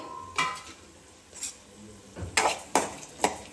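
Almonds and cashews fry in a pan, with a few scattered stirring scrapes and clinks standing out over a low, steady sizzle; no voices.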